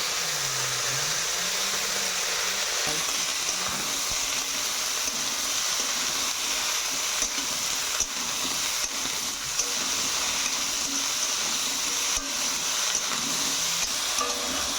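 Beans, carrot, green tomato and eggplant sizzling with potatoes in a pan, a steady soft frying hiss with occasional stirring, no speech.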